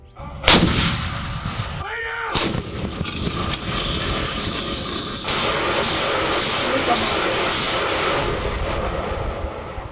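An Indian Army artillery gun fires with a sharp blast, followed by a long rumbling roar and rushing hiss, with another strong report partway through; loud and close.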